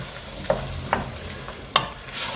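A spoon stirs beef goulash with canned chopped tomatoes in a pot, giving three or four soft scraping clinks spaced about half a second apart over a low, steady simmering hiss. No one speaks.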